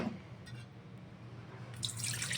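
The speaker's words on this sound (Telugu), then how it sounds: "ఇదిగోండి, 2 కప్పులు వాటర్ అయితే వేసుకొని" Two cups of water are poured into a cooking pot, a soft, faint trickle and splash that swells briefly near the end, with no talking.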